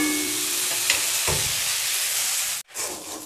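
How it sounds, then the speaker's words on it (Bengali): Moong dal and spices frying in a pot for khichuri, giving a steady close sizzle and hiss with a brief stir, then a sharp cut to near silence before the sizzle resumes. "তো আমি এই সব কিছুকে এখন বেশ ভালো করে ভেজে নিয়েছি।"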